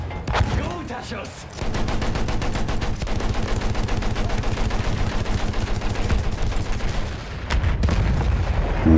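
Rapid gunfire in the World War I shooter Battlefield 1 crackles continuously, with dense automatic bursts and loud booms layered together, close and heavy throughout the clip.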